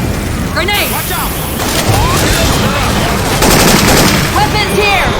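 Rapid gunfire and explosions from the video game Left 4 Dead 2, modified with Syphon Filter weapon sounds: loud, dense bursts of shots with booms under game voices shouting.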